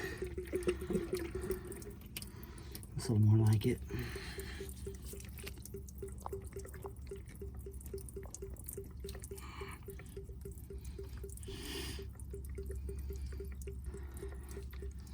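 Water drips and trickles steadily from a loosened drain on the engine of a 2006 Tige 22ve boat during winterizing, a rapid, regular patter heard up close, with a brief louder gurgle early on and a few words spoken.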